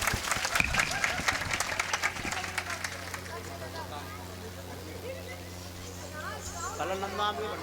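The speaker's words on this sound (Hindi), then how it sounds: "सभी ताली।" An audience claps at a live Shri Mad Bhagwat Katha religious gathering, a dense burst of applause for a couple of seconds that thins into a low hum and scattered murmuring.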